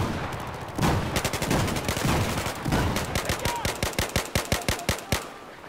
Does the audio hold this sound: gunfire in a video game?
yes